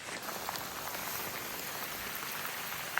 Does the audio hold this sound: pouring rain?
yes